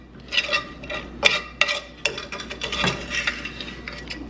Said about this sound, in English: Let's stir this macaroni around